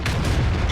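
The AMX 13 75 tank gun in World of Tanks sounds as one loud, dense boom that fills the whole short moment, with a heavy rumbling body and no talk over it.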